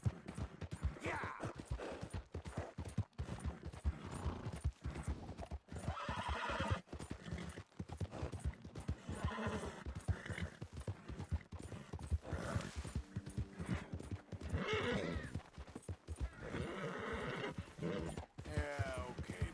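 A horse in Red Dead Redemption 2 gallops with a rapid, continuous clip-clop of hooves and lets out repeated neighs and snorts, loud and close throughout.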